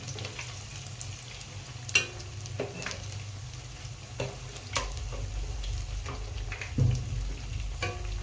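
Sabudana vada frying in hot oil as the fritters are gently flipped: a steady close sizzle and bubbling with a few soft stirring clicks and taps, and no talking.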